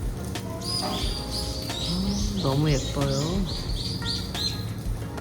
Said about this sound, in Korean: 새소리 들리시나요?